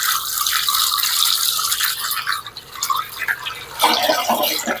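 Okra pods rinsed under running tap water, a steady splashing and dripping stream with brief squeaks as the wet vegetables are rubbed, close by and continuous with no talking.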